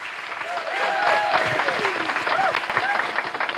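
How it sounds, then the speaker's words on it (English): Audience applause at a fireside chat on scaling innovation, a dense steady clapping from a crowd with voices and cheering woven through it. "Give him a round of applause."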